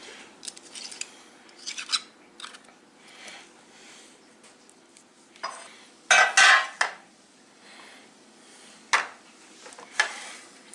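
A metal cake pan is handled in a kitchen, giving scattered clinks, scrapes and rattles of metal against surfaces, with one louder clattering burst midway and a few sharp knocks later.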